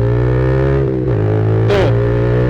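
Yamaha Vixion R motorcycle pulling away from a stop, steady engine drone with a brief dip as it clutches in and moves off under light throttle, close to the microphone.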